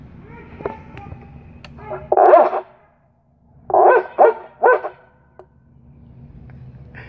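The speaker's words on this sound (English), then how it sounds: "And there's a dog, I don't know if you can hear him, one of my neighbors." A neighbour's dog barks in short bursts, two close together and then a quick run of three, clear but some distance off, with quiet pauses between.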